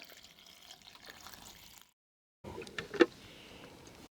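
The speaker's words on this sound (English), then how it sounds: "I've got filtered water here, so I just cover all the petals with the water" Filtered water poured over rose petals in a container, a soft continuous trickle that cuts to silence, then resumes as a brighter splash with a sharp knock near the end, close by.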